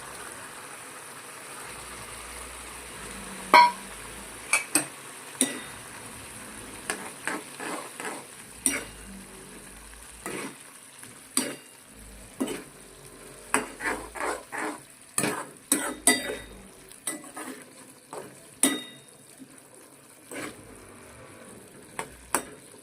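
Boiled green pigeon peas cook in thick gravy in a pan, with a steady soft sizzle broken by repeated sharp scrapes and clinks of a spoon stirring against the metal, close and clear.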